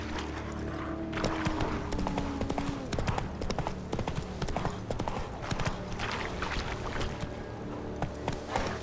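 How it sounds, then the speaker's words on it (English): The horse Roach gallops in The Witcher 3, hooves pounding in a fast, continuous clip-clop rhythm throughout, loud and close over a steady outdoor backdrop. "Run, Roach"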